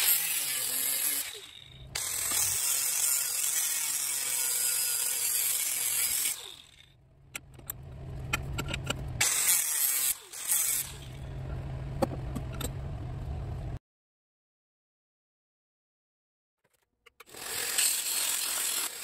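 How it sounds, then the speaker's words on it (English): Cutting a half-inch thick brass plate for a sword guard, a loud rasping, mechanical cutting noise that runs in long bursts with short pauses, stops into silence, then starts again near the end. "We'll now begin work on the guard, which I am cutting out of a half-inch thick piece of brass."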